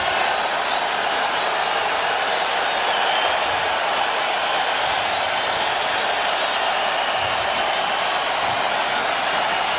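Broad, steady roar of a large stadium crowd cheering and clapping at an NFL preseason game, continuous and loud throughout with no distinct voices standing out.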